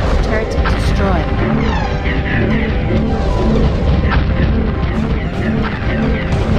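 A turret blows up in the real-time strategy game State of War: Warmonger, a dense, loud barrage of booming, crashing explosions and battle noise that rolls on steadily for several seconds without a break.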